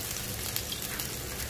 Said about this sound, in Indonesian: Hari ni saya masak macaroni goreng with sos tomato.